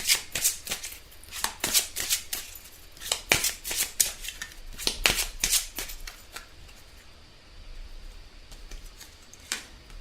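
Tarot cards being shuffled by hand in a run of crisp, rapid riffling bursts with short pauses between them, close and clear with no talking.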